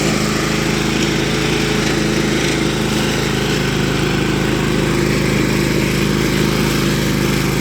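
A Honda lawn mower engine runs steadily and loudly throughout, a continuous close buzzing drone with no pauses and no voices.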